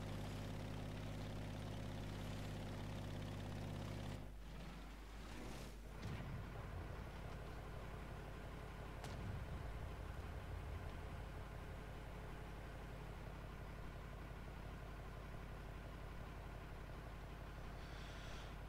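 A vehicle engine in War Thunder drones steadily at a low, constant hum throughout, with a brief rumbling shift partway and no talk.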